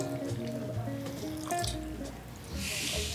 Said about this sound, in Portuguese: Então vamos colocar água no meio.